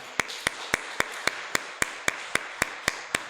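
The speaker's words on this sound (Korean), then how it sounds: "우리 새로 오신 우리 김준영 성도님을 위해서 같이 박수 치겠습니다." A church congregation at a Sunday morning service claps together in a slow, even beat, about a dozen crisp, evenly spaced claps over a quiet room.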